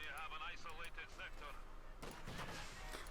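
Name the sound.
field gun artillery barrage in video game Company of Heroes 2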